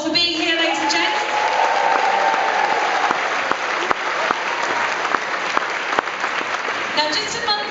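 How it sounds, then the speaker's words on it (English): A large audience at a choir competition concert in Newcastle City Hall applauds loudly and steadily for several seconds, a dense wash of clapping with a few louder individual claps standing out near the end, and a brief whistle or cheer early on. "Can you please give yourselves a round of applause for being here, ladies and gents?"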